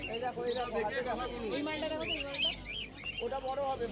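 Lovebirds chirp at the Galiff Street bird market in Kolkata, with bright high twitters scattered over a busy, continuous murmur of people talking close by.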